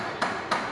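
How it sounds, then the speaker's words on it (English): Two sharp hammer blows driving nails into a wooden house frame, evenly spaced and close by, ringing out clearly with no talking. "when you hammer, you need to listen to the sound"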